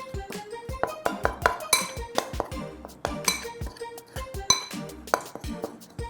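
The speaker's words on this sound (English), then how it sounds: "I'm just kind of stir that together first." Almond flour and powdered peanuts being stirred together in a bowl, heard as a run of sharp clinks and taps of a utensil against the dish, close and fairly quiet with no talking.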